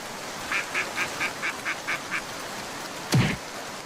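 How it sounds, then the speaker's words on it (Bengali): A cartoon duck gives a rapid series of about eight short, evenly spaced quacks, followed by a louder single swooping call, heard alone without talk. "হাঁস না?"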